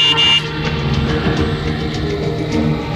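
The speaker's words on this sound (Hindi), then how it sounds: "अरे तो हॉर्न बजाओ ना।" A car horn blares briefly at the start over steady road traffic and engine rumble, then the busy street noise continues without further honks.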